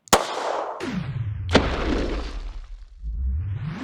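.380 Auto rounds fired from a Gearson Lady tip-up pistol into a ballistic mask: two sharp, loud cracks about a second and a half apart, each trailing off in a ringing decay, with no talk.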